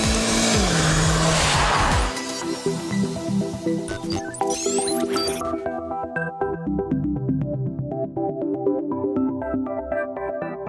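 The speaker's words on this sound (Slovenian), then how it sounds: "pri vsakem prestavljanju navzgor iz izpuha prav fino poči" A 2013 Renault Clio RS EDC revs hard with a loud engine note and tire noise, then shifts up and settles into a choppy lower drone with crackles and pops from the exhaust, heard close and with no voices.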